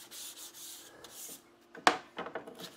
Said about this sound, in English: I just decided to grab a quick piece of sandpaper and knock these down.